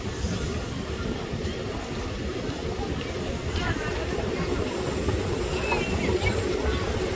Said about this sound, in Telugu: దువ్వాడ ముందర ట్రైన్ అయితే ఇక్కడ ఆపేశారు, చాలా నిదానంగా వెళ్తుంది